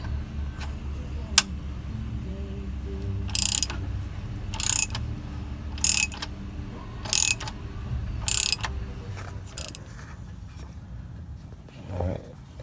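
A ratchet works loose the tensioner pulley bolt beside the oil pan of an Infiniti G35 using a 12mm socket, giving about five short bursts of metallic clicking spread across the clip over a low garage hum.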